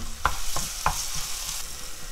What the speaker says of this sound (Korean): 마늘로 기름을 내. 그래가지고 고춧가루를 넣어. 마늘을 볶아줘.